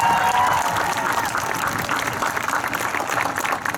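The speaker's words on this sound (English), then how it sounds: "one more round of applause for the valedictorian" A graduation crowd gives a sustained round of applause for the valedictorian, loud, dense clapping from many hands with some voices mixed in.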